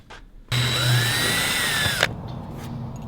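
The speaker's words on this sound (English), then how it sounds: "I'm gonna drill them out with a much bigger bit" A power drill with a large bit whines up sharply and runs steadily for about a second and a half, its pitch sliding as it bites through plastic fender liner clips on a Nissan 350Z, then stops.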